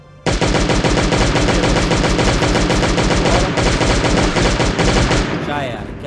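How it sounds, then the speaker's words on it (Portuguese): Rapid sustained automatic fire from an M16 rifle in a video game, a loud continuous burst lasting about five seconds before cutting off into quieter game sound. "Vamos gastar essa M16 aqui nesses putos aqui, galera"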